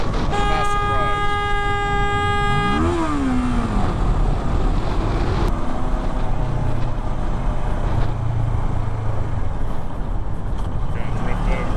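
A motorcycle rider sounds a loud, sustained horn blast for nearly three seconds that then bends downward, over steady engine and road noise, with traffic rumbling on afterward.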